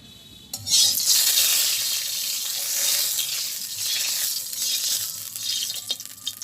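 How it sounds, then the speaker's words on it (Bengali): Cooking oil hitting a hot wok in a village kitchen, bursting into a loud, steady sizzle that holds for several seconds, with faint clatter mixed in and no talk. "তো আমার কড়াই গরম হয়ে গেছে, আমি এখন তেল দিয়ে দিতেছি"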